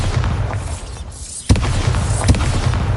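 A Bombarda spell blast in Hogwarts Legacy bursts out as one loud booming hit, followed by a rumbling, crackling tail and a smaller thump shortly after.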